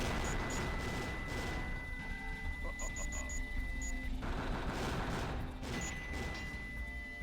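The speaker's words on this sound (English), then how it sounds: "make sure you fire your Vulcan Cannon in a random direction so that you don't hit something" Rapid Vulcan Cannon fire in Sonic Adventure 2 Battle, a dense, continuous clatter of shots under busy game music, with small high beeping tones popping through now and then.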